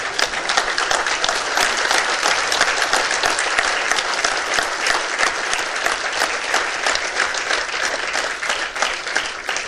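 A large audience at a talk on constitutional morality gives a long standing ovation, the clapping loud, even and continuous for nearly ten seconds with no speech over it.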